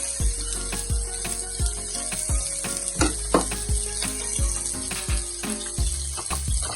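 Peppers and Scotch bonnet frying in a pan, a steady close sizzle with repeated scraping knocks of a utensil stirring against the pan.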